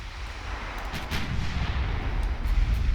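Heavy naval guns thunder in the warship battle game Ultimate Admiral Dreadnoughts, a steady rumbling barrage of deep booms that swells slightly toward the end, with no voices.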